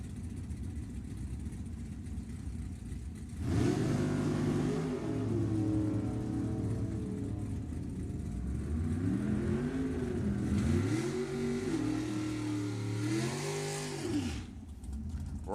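Gas drag racing cars sit idling on the track, then rev hard and launch. Loud, rising and falling engine roars repeat several times before the sound drops back near the end.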